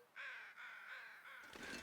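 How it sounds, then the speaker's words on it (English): Crows in the survival game The Long Dark give three drawn-out harsh caws, fairly clear and evenly spaced, followed by a rustling burst at the end. "Crows, are you helpful in any way, or are you flying away?"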